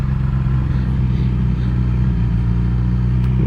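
A 2017 Yamaha R6 motorcycle engine runs at high revs, giving a loud, steady, buzzing drone close by with no break and no voices.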